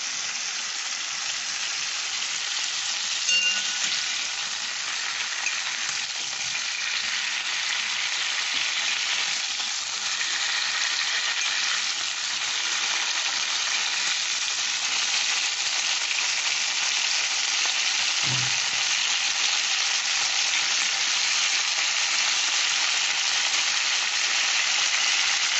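Cauliflower pieces fry in a pan for a vegetarian cauliflower dum, producing a long, even, hissing sizzle that stays steady and close, with one brief low knock partway through and no speech.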